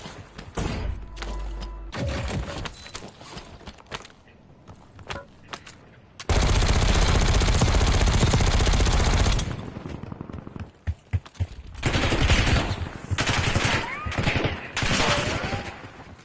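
Gunfire in the Call of Duty video game comes in loud, close bursts of automatic fire, with one long sustained stretch in the middle and further rapid volleys toward the end.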